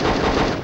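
Gunfire in the Hogs of War video game: a short, loud, close burst of rapid shots that fades quickly.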